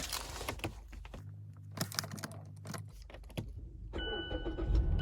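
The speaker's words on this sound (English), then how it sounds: "So I'm going to go ahead and try to start the car." A Mazda CX-5 starts up inside the cabin after some rustling and clicks, with a low engine rumble building toward the end and a faint electronic chime over it; no one speaks.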